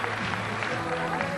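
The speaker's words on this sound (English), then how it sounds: "a round of applause for him" Crowd applause for a strongman at a 2004 Strongman Super Series Grand Prix bench press event in Sweden, a steady dense clapping wash lasting throughout with a commentator's voice running over it.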